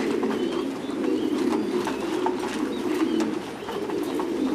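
Domestic pigeons cooing steadily around a feeding trough at a pigeon farm, with a continuous low warbling chorus of several birds close by and faint chirps over it.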